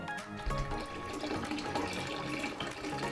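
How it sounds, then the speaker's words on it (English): Water drains from a hot water tank into a bucket, a steady splashing, gurgling pour heard close by and fairly quiet, with no voices. "I'm gonna drain out what I can from the tank."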